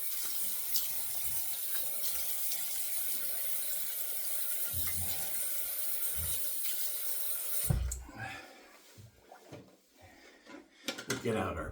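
Tap water runs steadily for rinsing after a shave, a continuous broadband splash that cuts off midway, followed by quieter handling knocks and renewed water at the end.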